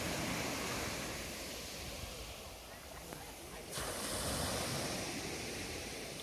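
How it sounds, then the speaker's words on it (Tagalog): Ocean waves washing onto a beach form a steady, broad rush of surf, easing slightly midway before swelling again, with wind noise on the microphone and no voices. "Ang sarap talaga ng wave."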